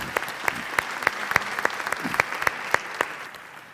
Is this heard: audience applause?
yes